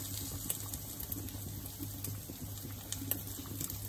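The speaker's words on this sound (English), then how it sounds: "So the pasta's bubbling away nicely." Pasta boils in a pot on a home stove for a quick carbonara, a faint steady bubbling and patter with soft scattered pops under a low hum.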